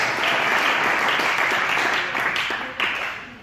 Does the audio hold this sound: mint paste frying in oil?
no